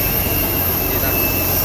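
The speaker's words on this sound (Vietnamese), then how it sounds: "Thì máy bay khá là ồn nên là mong các bạn thông cảm" Airplane cabin engine noise fills the space as a steady, loud jet roar and hiss, continuous and unbroken throughout.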